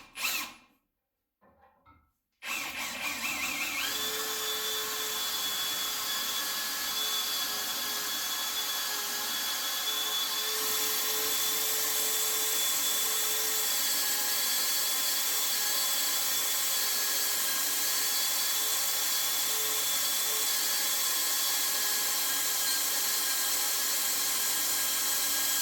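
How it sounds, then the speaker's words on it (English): A Parkside Performance 20V cordless drill boring into steel whines continuously at high speed after a brief start, steady and loud, with a slight pitch change partway through. "next test is drilling on a steel"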